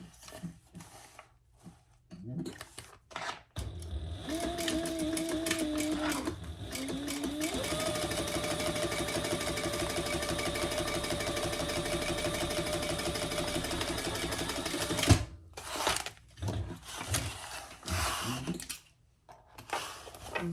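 A sewing machine stitches a fabric cover for a composition notebook, a steady close mechanical whir running for about eleven seconds between short bursts at start and end, with brief talk before and after.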